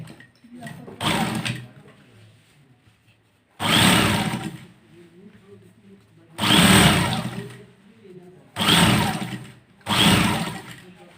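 A sewing machine stitches the shoulder seam of a Kallidar Punjabi in several loud, close bursts of rapid whirring, separated by pauses in which a person talks quietly.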